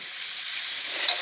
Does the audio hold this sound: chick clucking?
no